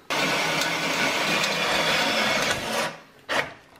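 A power drill with a 5/16-inch bit whines steadily for a few seconds as it bores a hole for an off-road light bar mount, then winds down, followed by a short second burst.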